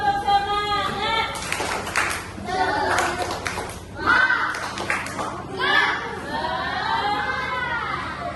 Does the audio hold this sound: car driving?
no